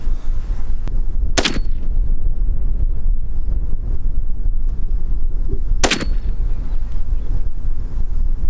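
Two loud, sharp gunshots from an Alexander Arms 6.5 Grendel rifle with an 18-inch barrel firing 118 grain Cavityback bullets, several seconds apart, over steady outdoor wind rumble.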